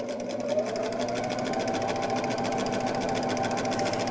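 A Baby Lock Jazz II sewing machine with a walking foot stitches a seam in heavier, stretchy French terry knit, running at a steady, continuous whir with a fine mechanical buzz throughout, close and alone with no talk.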